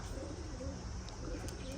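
Domestic pigeons cooing softly from a rooftop flock, low throaty coos repeating over steady background noise with no talking.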